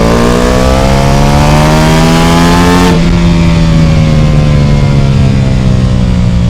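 A Ducati Pikes Peak motorcycle with a BT Moto stage 1 upgrade revs hard, the engine note climbing steadily, snapping through a gear change, then pulling up again, loud and close with no talk.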